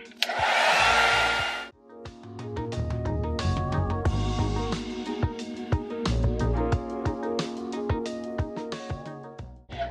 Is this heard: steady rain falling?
no